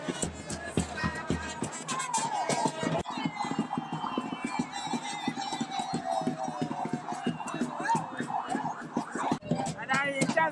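A donated ambulance arrives in Ghana through a cheering crowd, its siren wailing in rising and falling sweeps behind constant excited shouting, talk and rhythmic clapping.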